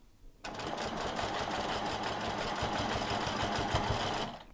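A sewing machine stitches a quilt for charity with a steady, fast mechanical whir that starts abruptly and runs without pause for about four seconds before stopping.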